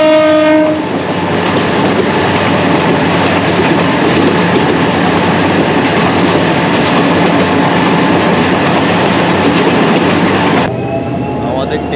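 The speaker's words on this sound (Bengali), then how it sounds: "আমাদের ট্রেনটা ছেড়ে দিল বাটিয়াল থেকে" A Dhaka mail train gets under way, opening with a brief horn blast before a loud, continuous rumble and clatter of wheels on the rails that stays heavy and close until it cuts off near the end.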